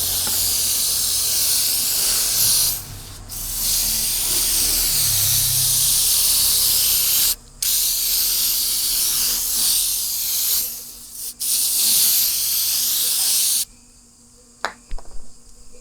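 Loud, steady hiss of a disinfecting foam helmet-cleaner spray in long bursts with brief pauses between them, close up, no talking.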